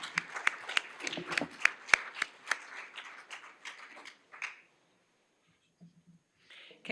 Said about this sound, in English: Let's give her a round of applause for all she's done.